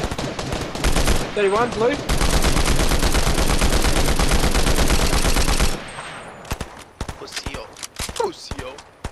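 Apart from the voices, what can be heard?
combat rifle gunfire in video game Fortnite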